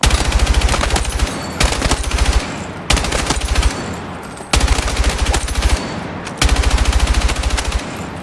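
Assault rifle fire in the video game Battlefield 6: loud, rapid automatic bursts repeat in about five strings, each separated by brief pauses, with no voices.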